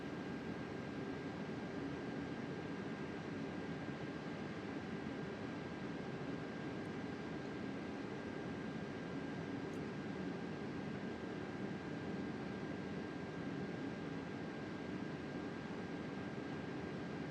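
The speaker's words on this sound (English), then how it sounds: "Airbus 330." Steady, loud broadband roar of an Airbus A330 airliner in Microsoft Flight Simulator 2024, a constant engine hum with a faint high whine running unchanged throughout, no voices.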